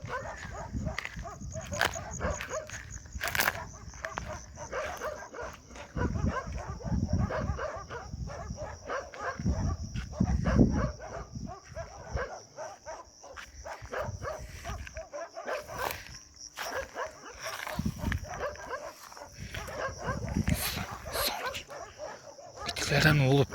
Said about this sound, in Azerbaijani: İtlərin sesi hiç durmur dostlar.